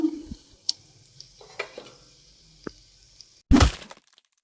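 Whole spices hit hot ghee in a pressure cooker, giving scattered close crackles and pops, then one short loud sizzling burst before it fades out.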